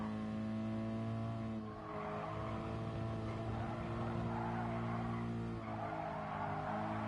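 Tyres squealing in a GT Sport racing game, a steady sustained screech layered over a constant engine drone, loud and continuous with brief dips.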